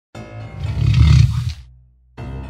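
A tiger roars as a sound effect in a Korean children's story about a rabbit and a tiger, one loud, deep, swelling roar lasting over a second before fading into a brief silence.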